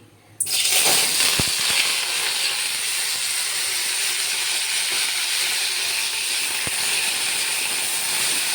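Two cut potatoes, marinated in yogurt, dropped into hot oil in a wok: a sudden loud sizzle that stays as a steady, even hiss throughout, with faint clinks in the background.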